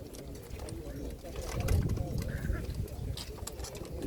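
Pigeons at a pigeon market in Radom coo softly and low. A murmur of voices and market bustle surrounds them throughout.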